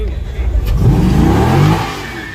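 A Dodge Challenger 392 at a drag-racing street event revs up close, the engine note climbing in pitch over a second or so, then easing off.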